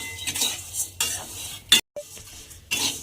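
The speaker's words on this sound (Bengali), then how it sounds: "এবার একটু সিমুইগুলোকে ভালোভাবে আমায় ভেজে নিতে হবে প্রথমে" Scraping and clinking of a utensil stirring handmade vermicelli frying in a pan for payesh, in short bursts with brief pauses, under a faint, steady sizzle.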